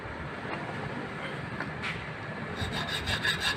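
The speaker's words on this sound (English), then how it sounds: "So always use your file steady on the surface. Straight filing." Hand file worked straight and steady across a metal workpiece during a fitting job, giving a continuous close rasping scrape with faint repeated strokes toward the end.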